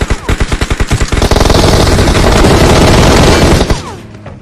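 Automatic gunfire in a shooter game, starting as a string of distinct rapid shots that merge into a dense, loud, continuous burst before cutting off, up close with no talk.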